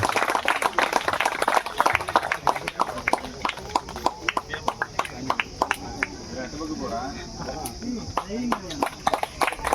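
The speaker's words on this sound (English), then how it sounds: "Give a big applause, guys." Scattered clapping from a crowd greets runners-up at an Independence Day games prize ceremony, with claps rising and falling under a loud announcer's voice and background chatter.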